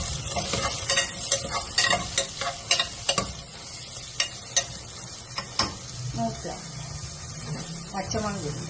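Sliced onions and shallots fry in a pan for beef mappas, a soft steady sizzle broken by repeated clacks and scrapes of stirring, close and moderately loud.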